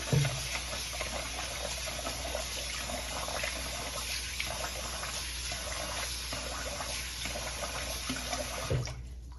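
Steady running tap water splashes as something is rinsed under it, continuous and close, then cuts off just before the end.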